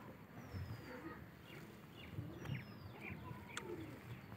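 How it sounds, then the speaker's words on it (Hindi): A pigeon coos softly now and then in the distance, faint beneath outdoor background noise, with people talking nearby. "वो देखो कबूतर"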